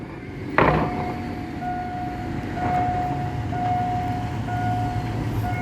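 Ordinary passenger train 251 rumbles steadily past Charan Sanitwong railway halt in Bangkok with a low broadband roar, a sharp clank at the start and a faint sustained tonal whine running through.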